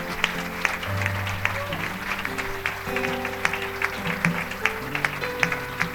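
Church congregation applauding during a service, sustained clapping from many people over held organ or keyboard tones and background voices.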